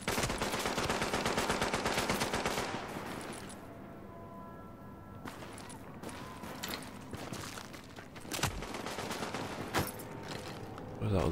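Rapid bursts of turret gunfire in a video game, loud and close, with a dense automatic volley at the start and sporadic sharper shots later, some faint voice underneath.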